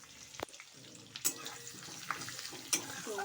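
Whole garam masala, ginger and garlic sizzling in butter and white oil for an egg curry, a soft continuous fry broken by a few sharp clicks and scrapes from a spoon against the pan.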